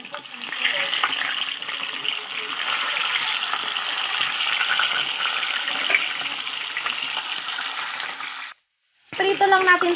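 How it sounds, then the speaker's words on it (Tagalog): Milkfish pieces fry in hot oil with a loud, steady sizzle and occasional crackles and pops, going on for several seconds before a short break and a brief burst of clatter. "Prito lang natin to lahat."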